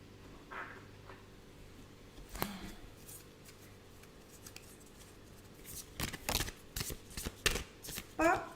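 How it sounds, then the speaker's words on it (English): Tarot cards being shuffled in a quiet indoor room, with soft papery riffles and slides, a sharp snap early on and a denser burst of card flicks and taps near the end, heard alone. "Let's get some more cards out."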